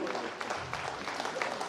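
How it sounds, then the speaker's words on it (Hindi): An audience at a college national seminar applauds in honour of the guests, a dense, steady patter of clapping throughout, with some voices faintly mixed in. "तालियां बजती रहनी चाहिए सभी अतिथियों के सम्मान में।"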